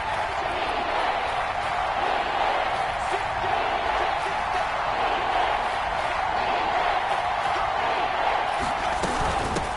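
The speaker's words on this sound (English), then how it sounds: "This is where the KC crowd can make it very tough." Dense, steady roar of a Kansas City stadium crowd in the Madden 22 football game during a 3rd-and-goal play, continuous and loud with no breaks.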